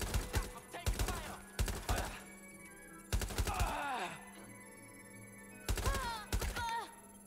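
Bursts of enemy gunfire in the Watch Dogs Legion video game, rapid clustered shots in several short volleys with brief pauses between, fairly close, and a few faint game voice sounds mixed in.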